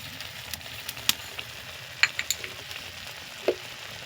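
Banana stem paste fries in a pan with turmeric and sugar, a soft steady sizzle broken by several sharp scraping clicks as a spatula stirs it, no talking.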